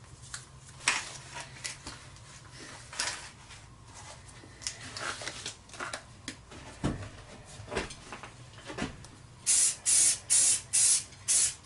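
High-temperature black paint is sprayed onto an anvil in short aerosol bursts, irregular hisses near the mic, ending with a run of five quick, even spurts.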